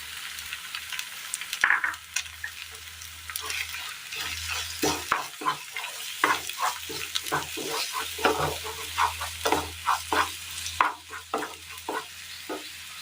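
Beaten egg poured into a pan with crushed coconut mixture and cooked, giving a quiet background sizzle broken by repeated scraping and stirring strokes of a spoon against the pan, with no talking.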